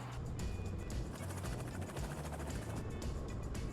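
Robinson R44 helicopter running on the ground during emergency procedures training, a steady loud engine drone with a low rotor throb that pulses continuously throughout, close and unbroken.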